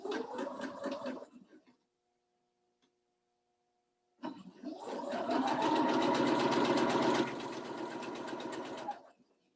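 A sewing machine runs close and clear while piecing a quilt seam, first in a brief burst, then after a silent pause in a longer steady run that eases slightly near the end.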